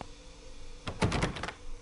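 A locked train door in Murder on the Orient Express video game rattles in a short burst of several quick, muffled knocks and clatters, moderately near and otherwise alone.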